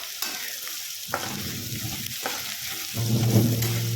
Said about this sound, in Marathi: छान फोडणी बसली की त्यात आपण कांदा टाकून तळून घेऊया